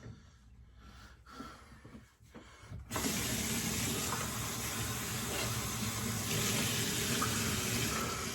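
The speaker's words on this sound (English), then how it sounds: "Give it the splash and rinse." At a sink after a straight-razor shave, a few soft splashes and rinses come first, then a tap opens into a loud, steady rush of running water that continues to the end.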